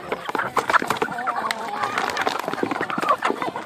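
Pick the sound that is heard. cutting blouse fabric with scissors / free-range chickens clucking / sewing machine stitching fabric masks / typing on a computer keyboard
free-range chickens clucking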